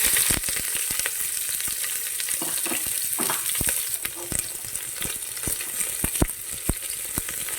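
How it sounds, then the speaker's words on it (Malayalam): Two sliced onions frying in a pan for a Kerala-style kadala curry, a loud continuous crackling sizzle with sharp pops and spatula scrapes throughout, close and steady with no voices. "ഇനി 2 സവാള സ്ലൈസ് ചെയ്ത് വെച്ചിരിക്കുന്നത് ചേർക്കാവേ."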